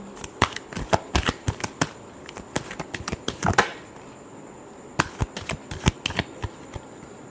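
Tarot reading cards being shuffled by hand in quick bursts of crisp riffling snaps, a run of rapid clicks, a brief pause, then another flurry, close and clear with no talk.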